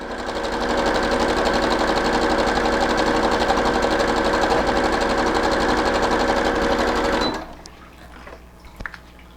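A sewing machine stitches elastic into a leggings waistband, running fast and steady at close range for about seven seconds, then stops, leaving a few faint clicks.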